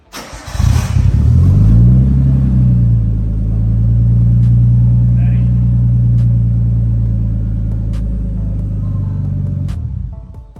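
An RB20DET engine running on a Link ECU cranks and fires up, then settles into a loud, steady idle that holds close and alone before cutting off near the end.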